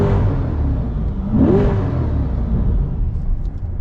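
Chevrolet C8 Corvette Stingray engine with both shift paddles pulled, a deep continuous rumble that swells in one brief rev and settles back, heard from inside with no talking.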